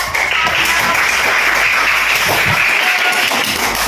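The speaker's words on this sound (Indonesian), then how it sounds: "beri tepuk tangan kepada ya" Schoolchildren clap together in a classroom after a group's maths answer, a dense burst of close, loud applause lasting a few seconds and tapering near the end.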